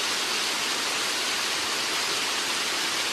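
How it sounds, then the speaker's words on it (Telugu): A small waterfall at Maredumilli, Andhra Pradesh, rushes in a steady, dense broadband hiss that stays even and close for the whole stretch, with no voices over it. "చిన్న వాటర్ ఫాల్ పైన ఉందండి"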